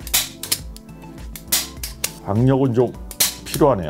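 A DeWalt DWHTO-TR510 staple gun fires several sharp, loud mechanical snaps at irregular intervals, close to the microphone, with someone speaking Korean between the shots.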